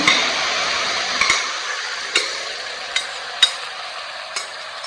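Cooked kadala rice, made with chickpeas, being mixed in a pan for a lunch box, with a steady soft scraping and sizzle and a few sharp clicks of a spoon against the pan.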